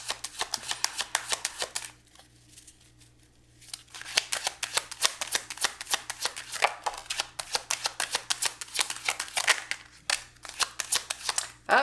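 Tarot cards are shuffled close up in quick, rhythmic riffling bursts of crisp papery flutters, with a brief quiet pause early on before the shuffling resumes steadily.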